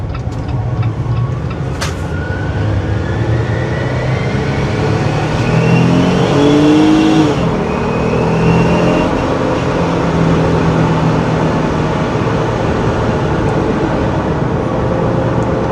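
A ProCharger-supercharged 2021 Jeep Gladiator Mojave pulling hard at full throttle, a loud steady engine roar with rising supercharger whine and rushing road noise, heard from inside the cab.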